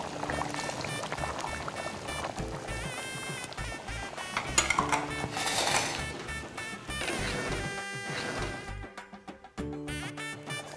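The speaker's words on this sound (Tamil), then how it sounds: "வதக்கின வெண்டைக்காவை இதில் போட்டுடலாம்" Fried okra tumbles and pours into a simmering gravy, with clattering and soft bubbling under steady background music.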